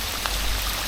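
Steady rain falling in darkness during a night hike beside a river, a soft continuous hiss with faint drops and a low rushing water undertone throughout.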